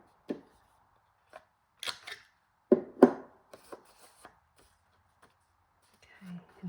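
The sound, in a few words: paper trimmer cutting paper at an angle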